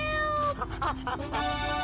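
A cartoonish cat meows in a GTA III Chatterbox radio ad for Pogo the Monkey, two or three drawn-out mewing calls sounding close and clear over a steady background music bed.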